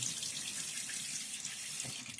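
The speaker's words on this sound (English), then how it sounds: "Get water on my face one more time." Running tap water splashes steadily close by during a wet shave, a continuous hiss of flowing water from the sink with faint handling noises and no talk.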